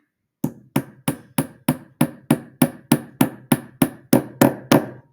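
A hammer taps a wheel onto the axle of a small wooden toy car in about fifteen evenly spaced sharp knocks, close and growing slightly louder as it seats.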